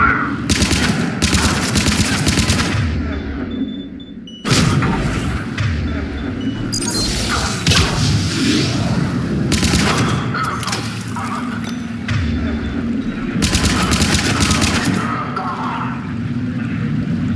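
Gunfire in Mass Effect 3 on Earth, loud sustained automatic bursts with heavy thumps and booms, continuous battle noise punctuated by brief lulls.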